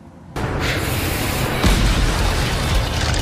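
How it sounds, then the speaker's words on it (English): A Civil War cannon loaded with grape and scatter shot fires at a reenactment battle in Keokuk, Iowa, a sudden loud boom followed by a sustained rumbling roar and a second heavy thump. "we're going to use the grape and the scatter shot out of the Deadliest Warrior again to give you an idea as to that shotgun effect"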